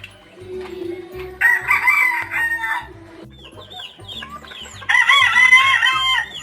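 Several chickens cluck nearby while a rooster crows loudly twice, in bursts over a low background rumble.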